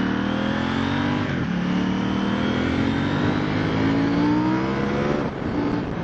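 KTM Duke 790 twin-cylinder motorcycle with a quickshifter accelerating hard, the engine note climbing steadily and loud and close, with a brief dip near the end before pulling again; no talking.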